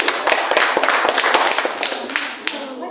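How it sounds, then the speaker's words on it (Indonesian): A class claps for a classmate, a brisk burst of close, loud hand claps in an uneven rhythm that tapers off after a few seconds. "berikan tepuk tangan untuk temannya ini"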